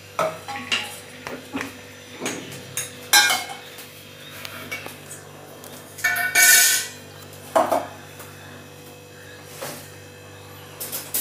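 A metal cooking pot being picked up and set down in a home kitchen, giving a series of sharp clanks and scrapes, some close and loud, over a steady background hum with no talking.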